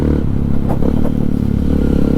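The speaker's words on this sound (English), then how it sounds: "as you can easily hear, that the exhaust of this motorcycle is really making a real good noise, and it's loud" A Hero X-Pulse 200 dual-sport motorcycle fitted with a rally kit idles loudly nearby, its exhaust giving a deep, throbbing, uneven burble with a couple of brief blips of throttle.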